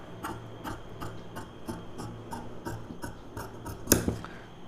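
Scissors cutting a round neck shape into blouse fabric, a quiet, close run of about a dozen evenly spaced snips, ending in one louder, sharper snip near the end.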